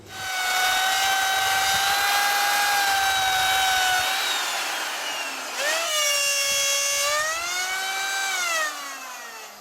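A router with a worn bit, on a Jasper 200 jig, whines loudly and steadily cutting a speaker hole, its high motor pitch dipping and recovering as it bites into wood, then winding down at the end.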